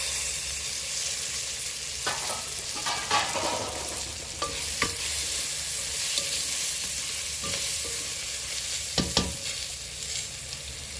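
Chopped green chilies and curry leaves sautéing in hot oil, a dense crackling sizzle with irregular spatula scrapes and clicks against the pan, close and without speech.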